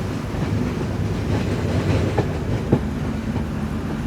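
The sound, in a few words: Jaffna–Colombo Intercity Express train running on rails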